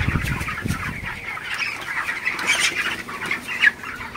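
Broiler chickens cluck and squawk in hot weather on a farm, several birds calling in overlapping bursts at close range with one sharper squawk near the end, no talk.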